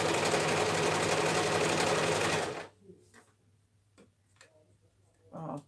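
A sewing machine runs in a fast, even buzz for about two and a half seconds while stitching a dress form cover, then stops. Scattered quiet clicks and handling noises follow, with a short burst of activity at the end.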